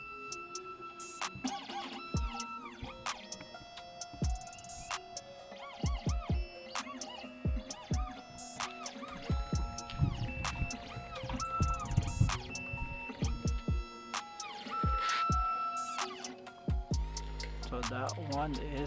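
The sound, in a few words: Xhorse Dolphin XP-005 key cutting machine calibrating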